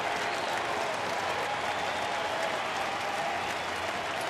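A baseball stadium crowd at a St. Louis at Milwaukee game applauds steadily, a dense sustained roar of clapping and cheering.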